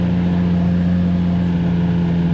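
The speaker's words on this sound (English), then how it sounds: "It's really mellow, like exhaust sounds good." Exhaust of a 2JZ-swapped MK5 Toyota Supra with a six-speed manual, a steady, mellow engine drone with a strong low hum and no change in pitch from start to finish.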